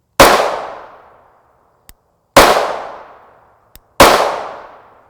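Three loud, close 9mm shots of Winchester M1152 ammunition fired from a pistol into ballistic gel, evenly spaced about two seconds apart, each a sharp crack with a decaying ring-out, plus small metallic clicks between shots.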